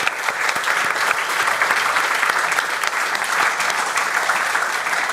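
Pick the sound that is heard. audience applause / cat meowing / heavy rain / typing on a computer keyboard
audience applause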